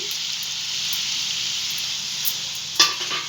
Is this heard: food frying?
yes